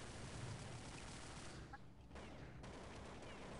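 Rapid bursts of video game gunfire in a shooter match rattle on continuously at moderate loudness, with a brief dip partway through and faint voices underneath.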